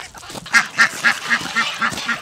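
Farm geese honking in a steady series of about eight nasal calls at an even rhythm, fairly close and loud, with no speech over them.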